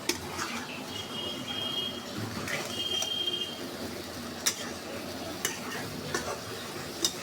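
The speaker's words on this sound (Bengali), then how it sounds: "এখন আমি মাছগুলো সুন্দর করে কষিয়ে নেব" Boal river fish being stirred and fried in a pan with salt and turmeric, giving a steady sizzle broken by sharp scraping clinks of the spatula against the pan.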